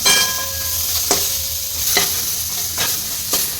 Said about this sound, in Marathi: कांद्याला लालसर कलर आला त्यामध्ये आपण मिक्स करू अर्धा टोमॅटो.